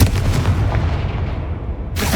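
A Confringo fire spell explodes in the video game Hogwarts Legacy, a loud booming blast with a rumbling low tail that decays over about two seconds before a fresh burst hits at the end.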